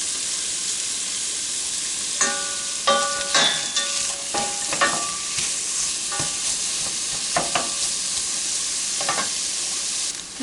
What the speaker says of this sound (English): So I've melted my butter, and I'm getting my onions in, and we're going to start sauteing them down.